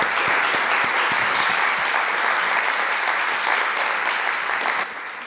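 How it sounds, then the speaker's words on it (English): Applause from the audience at a business talk on family business leadership, a dense, steady wash of many hands clapping together that dips slightly in the final moments. "Let's give a round of applause"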